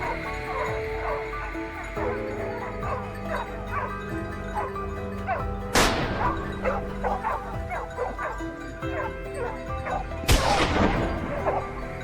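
A pack of hunting dogs barks and yelps during a wild boar hunt, many overlapping barks close and continuous, broken by two sharp loud bangs.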